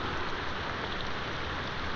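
Steady rain falls in an outdoor film scene, heard as a dense, even hiss with no pauses or distinct drops.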